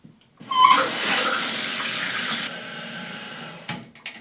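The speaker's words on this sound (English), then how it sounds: "Go ahead and turn the water back onto the toilet." Water rushes loudly into a toilet tank through a newly replaced fill valve after the supply is turned back on, a sudden close hiss that runs steadily and then tapers, with a few clunks at the end.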